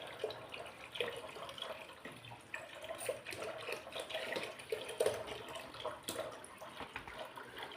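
Water runs from a tap while fish is being washed, a faint, uneven splashing and trickling with small drips, close and alone.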